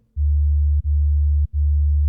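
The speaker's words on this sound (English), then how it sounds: "you have like the basic sub, like the really clean sub that pretty much every song needs" A clean sub-bass sine wave from the Harmor synthesizer holds a deep, steady low tone, sounding three sustained notes separated by two brief cut-offs, loud and alone with no other sound.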